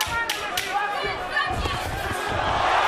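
A boxing arena crowd at Bradley vs. Vargas rises into a swelling ooh after a right hand, a loud murmuring roar with scattered shouts and sharp accents.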